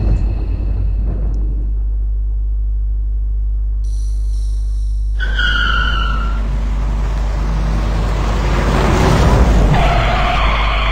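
A car in the game Let's Find Larry gives a loud, constant low engine rumble and hum, joined partway through by brighter tonal layers that could be a siren or horn.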